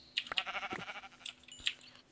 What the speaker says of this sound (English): I've also found 2 sheep that I'm gonna murder right now for beds.